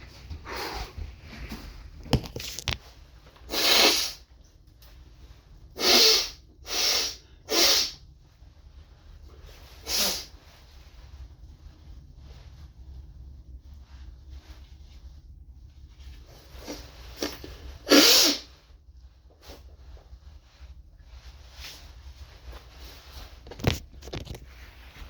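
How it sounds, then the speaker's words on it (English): Several short, sharp nasal blasts from one person blowing their nose, some in quick bursts of two or three, spread between quiet pauses in a close, hushed room. "I gotta blow my nose."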